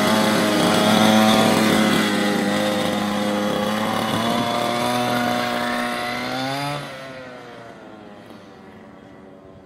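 A fifth-scale RC car engine runs close during break-in, its buzzing note droning steadily, rising slightly in pitch, then dropping away and fading as the car drives slowly off.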